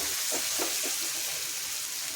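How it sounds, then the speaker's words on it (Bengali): Chili powder and spices stirred in a pan of hot oil for chicken, a steady loud sizzle with a few soft scraping strokes of the spoon in the first second. "লঙ্কা গুঁড়ো দেওয়ার পর একটু নাড়তে হবে।"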